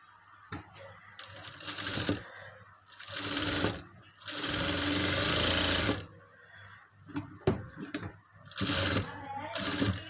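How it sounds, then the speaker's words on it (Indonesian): A sewing machine stitches a trouser side pocket in rapid bursts, each run a dense mechanical buzz lasting a second or two, with short pauses and handling sounds between; a voice speaks quietly at times. "sekarang kita jahit dulu bagian ini ya"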